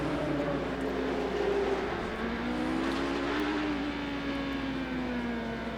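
Porsche race cars driving on a circuit during a race, a steady loud engine drone with shifting pitch as the cars run on and off the throttle, heard continuously without speech.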